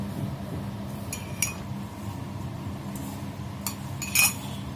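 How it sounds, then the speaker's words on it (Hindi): Metal spoon lightly clinking against a bowl while an ingredient is spooned in for coconut rolls, a few sharp separate chinks spread over a soft steady background, no talking. "मैं चम्मच से डाल रही हूँ ताकि ये ज्यादा ना हो जाए"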